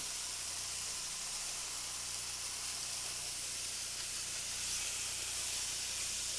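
Chicken cutlets sauteing in a pan for a white wine dish give off a loud, close, steady sizzle that swells slightly toward the end, with no talking.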